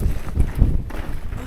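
Strong wind buffets the microphone on an exposed hillside, a steady low roaring rumble with gusts swelling and fading throughout, loud and close with no speech.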